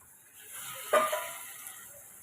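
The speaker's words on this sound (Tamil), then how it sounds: "இப்போ நம்ம சிக்கனையும் நம்ம சேர்த்துக்கலாம்" Chicken pieces added to a hot pan with fennel seeds for a chicken fry, giving a sudden close sizzle that flares up and then settles into a steady frying hiss.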